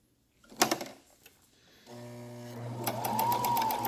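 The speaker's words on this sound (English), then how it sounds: "And then I'm going to back stitch, and then I'm going to go forward." A sewing machine stitches close by, starting after a few handling clicks and settling into a steady mechanical whir as it sews a back stitch before running forward.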